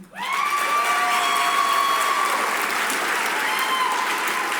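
Loud, sustained applause and cheering from the audience at a police academy graduation ceremony, a dense crowd roar that starts suddenly and carries on steadily throughout.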